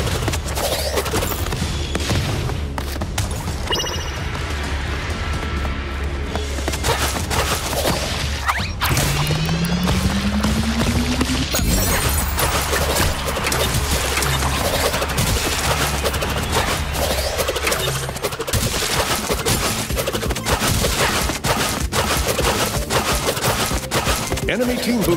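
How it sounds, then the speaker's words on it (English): Dense, loud bombardment explosions and impacts in the Crash Team Rumble video game, with continuous crashing, whooshes and blasts layered over game music, plus a rising synth sweep midway. "Ally bombardment."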